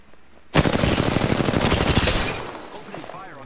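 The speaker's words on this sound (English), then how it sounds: "Opening fire on the enemy." Sustained rapid automatic gunfire in the Apex Legends video game, a loud burst starting abruptly and running for about two seconds before fading into quieter game sounds.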